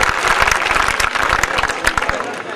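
A mushaira audience in Vapi applauds as the poet Lata Haya comes to the mic, loud dense clapping from a crowd with some crowd murmur, continuous throughout.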